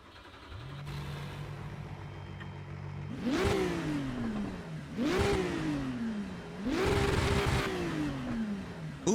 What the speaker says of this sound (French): Et nous voici dans cette petite Ferrari 296 GT3, on va aller directement l'allumer, faire mes premiers tours de roue